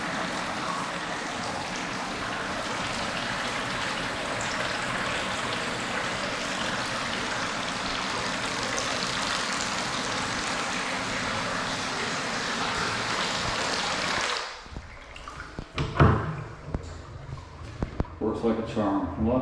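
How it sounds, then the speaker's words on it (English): Water pours steadily from a newly installed faucet into a free-standing bathtub during a flood test, a broad continuous rush that stops abruptly near the end, followed by clunks and handling noises. "let's get the faucet in so we can do a flood test."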